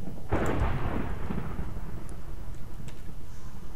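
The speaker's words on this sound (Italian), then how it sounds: "non fanno piccini tuoni." A loud thunderclap bursts early in a storm, then rumbles and slowly fades into a low, steady roll with faint rain-like hiss and no voices.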